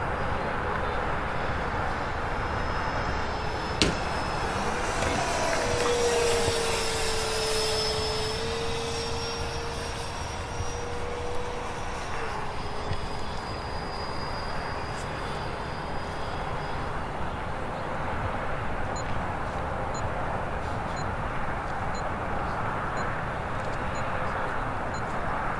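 An RC Fouga CM.170 Magister model jet lands, its turbine giving a steady, loud whine with a slowly falling pitch that holds throughout.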